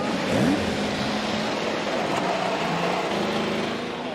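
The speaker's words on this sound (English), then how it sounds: "Drivers, start your engines!" IndyCar race car engines starting and revving on the grid at Laguna Seca, a loud layered engine roar with rising and falling revs from several cars blending into a continuous drone, with no talk.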